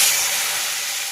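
Tomatoes hit a hot frying pan for aloo dum, giving a loud, steady broadband hiss of sizzling oil and steam that fades slightly over about a second, with no voices.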